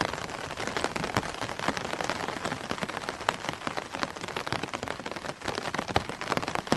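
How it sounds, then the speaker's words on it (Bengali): Steady rain patters on an umbrella at night along a roadside with bushes, a dense, even hiss of drops with no pauses, close and continuous, with no voices. "কানে ভেসে আসছে শুধু ছাতায় পড়া ফোঁটা ফোঁটা পানির আওয়াজ।"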